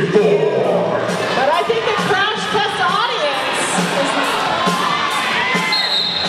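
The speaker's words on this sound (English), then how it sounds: "crowd definitely making a difference tonight." A crowd at a flat-track roller derby bout cheering and shouting loudly and continuously, a dense wash of voices and whoops that stays strong throughout, with an announcer talking over the din.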